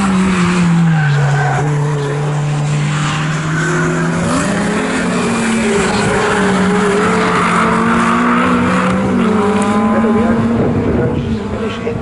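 Classic VW Cup and Honda VTEC Challenge race cars on the circuit at Snetterton, with loud engines droning and shifting pitch as the cars pass close by, sustained and continuous, under faint commentary.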